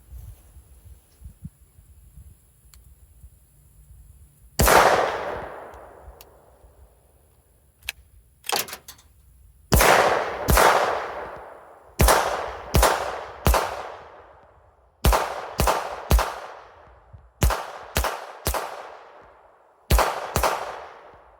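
An FN 502 Tactical pistol fires unsuppressed: a lone sharp shot, then repeated bursts of three loud reports in quick succession, each cracking close and ringing out with a decaying tail, separated by short pauses, no voices.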